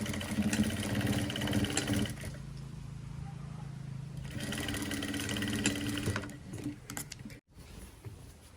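A sewing machine stitches the side seams of fabric for a modern top. It gives a close, steady mechanical whirring in two runs separated by a quieter stretch, then slows and stops with a few light clicks.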